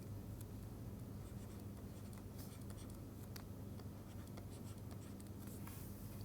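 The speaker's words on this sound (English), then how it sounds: "I'm going to write it here" A pen or marker writing equations, with faint scratchy strokes and taps over a steady low hum in a quiet room.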